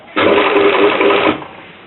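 A sewing machine runs a short backstitch with a zipper foot on an invisible zipper, a close, steady mechanical whir lasting about a second before stopping.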